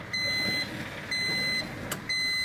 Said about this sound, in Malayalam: വാഷിംഗ് കഴിഞ്ഞതിന് ശേഷം അലാറം അടിക്കുന്നതായിരിക്കും.